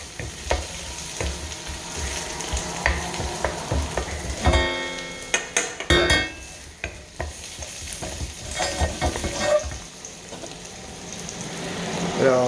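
Onions sizzle in a hot frying pan while being stirred, with scraping and clattering stirs over a steady fry and a few quiet voice sounds in between.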